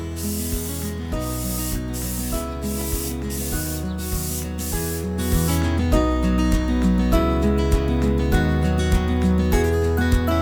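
A spray paint can sprays red paint onto bare metal of a log splitter wedge in short, rhythmic hissing bursts close by, then settles into a steadier, louder stream of spray.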